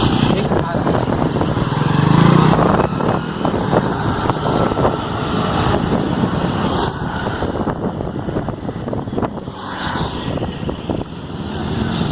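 A motorcycle engine runs steadily and rumbles as the bike pulls away slowly in first gear with the clutch eased out, with someone talking over the sound throughout.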